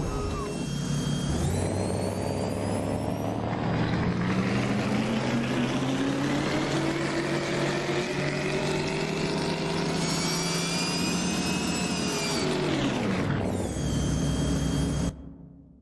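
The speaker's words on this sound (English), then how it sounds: "you can hear sort of the whine of the straight cut gears from the actual tumbler here" In American Truck Simulator, a custom battle truck engine pulls under load with a rising whine from straight-cut gears, climbing in pitch, easing off, climbing again, then cutting out sharply.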